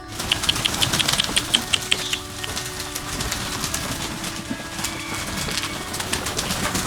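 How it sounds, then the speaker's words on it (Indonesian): Several pigeons coo at a family adventure farm near Jakarta, soft repeated calls layered over a busy background with rapid clicking and chirps throughout. "Ini merpati, Mas, macam-macam burung dara."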